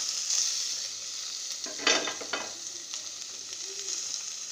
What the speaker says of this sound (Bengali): এখন এর মধ্যে আমি ডিমগুলো দিয়ে দিলাম